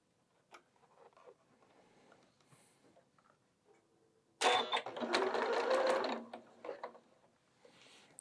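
A sewing machine stitches thread through a Kitty's Garden quilt in one fast, steady burst of about two seconds, with quiet handling and ticking before and after.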